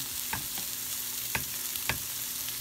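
Meatballs frying in a pan, a steady broadband sizzle with a few sharp pops and stirring clicks, close and alone without voices.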